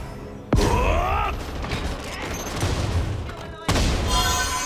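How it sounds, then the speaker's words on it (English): Cannon fire in the mobile game Honor of Kings: two loud booming blasts roughly three seconds apart, each followed by rumbling debris and mechanical clatter, with no talking. "My cannon has no blind spots."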